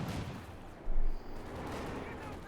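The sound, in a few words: bazooka fire at Panther IV tank in Company of Heroes 2 video game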